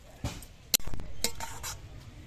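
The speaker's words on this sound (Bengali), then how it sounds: "এবার হলুদের গুঁড়ো দিয়ে জিরের গুঁড়ো দিয়ে নেড়ে চেড়ে মিশিয়ে নিতে হবে" Turmeric and cumin powder are stirred into cabbage in a pan: a few sharp metal spoon clinks and scrapes against the pan, spaced irregularly over a quiet background.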